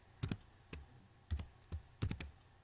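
A computer keyboard is tapped in short, spaced clusters of keystrokes, a few quick clicks at a time with pauses between, close and distinct against a quiet room.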